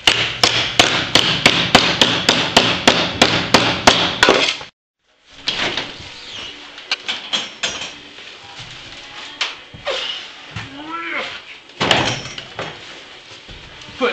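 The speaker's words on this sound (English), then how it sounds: "Just need to hammer them flat." Scrap metal pieces are hammered flat, first a rapid, evenly spaced run of about a dozen sharp, ringing blows close by, then after a brief pause, scattered irregular strikes and clanks with quieter gaps between.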